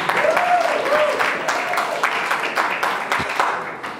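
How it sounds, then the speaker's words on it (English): A school audience at a student council election breaks into applause, a dense wash of clapping with some voices and a whoop mixed in, tapering gradually. "Everyone, round of applause"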